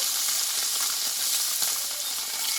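Puti fish fry in hot oil with a steady, loud sizzle and crackle that holds evenly throughout, with no voices.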